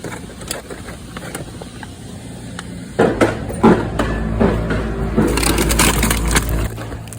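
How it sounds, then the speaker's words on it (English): Sharp plastic clatters and thumps as a child bangs a toy fire truck against a hard floor, several in a row, over a busy crowded-room background with a low rumble. "That noise you heard was a child with his toy fire truck banging it onto the floor."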